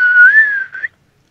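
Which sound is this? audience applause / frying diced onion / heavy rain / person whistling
person whistling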